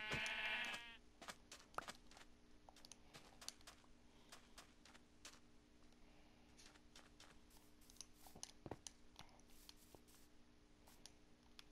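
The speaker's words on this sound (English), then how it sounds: "A sheep." A sheep bleats in the Minecraft video game, one wavering bleat at the start, followed by quiet scattered keyboard clicks and faint game ambience.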